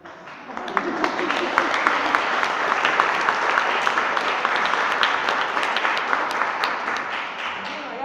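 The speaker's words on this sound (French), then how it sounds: "Je vous applaudis." A crowd applauds steadily at a live show in a cinema, a dense wash of many hands clapping that holds for the whole stretch with voices mixed in.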